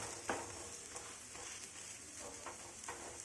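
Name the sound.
aloo palak paratha pressed and roasted crisp on a pan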